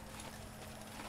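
Horse hooves clop in the Assassin's Creed video game, a steady, continuous stream of hoofbeats heard quietly and alone with no talking.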